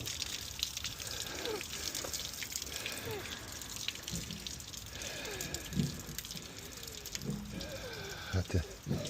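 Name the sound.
water running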